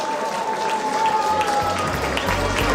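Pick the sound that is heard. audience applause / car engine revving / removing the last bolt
audience applause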